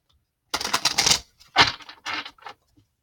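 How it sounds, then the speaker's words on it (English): A deck of tarot cards is shuffled in quick crisp riffling bursts, a clattering flurry followed by two shorter sets of snapping and flicking, close and alone. "Let me shuffle this deck"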